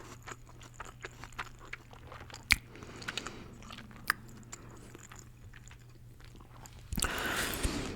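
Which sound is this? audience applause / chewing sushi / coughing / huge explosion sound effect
chewing sushi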